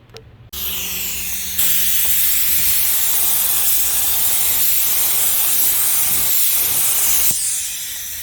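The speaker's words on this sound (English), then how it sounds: "let's spray it and see how it turns out" A spray gun hisses loudly and steadily for several seconds while painting a Toyota JZX100 Chaser yellow, starting abruptly and cutting off at the end, with a faint hum beneath.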